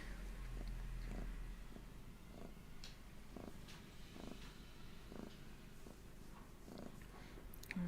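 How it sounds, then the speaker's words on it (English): Close, low rumbling purr from a cat, steady and continuous with soft rhythmic pulses, a faint creak here and there in a quiet room. "I also put the music on pause so you get all the purrs."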